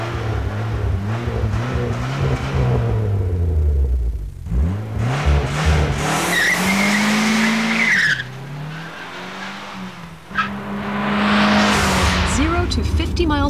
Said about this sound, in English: And of course, the Sunbird SE Turbo can really move out.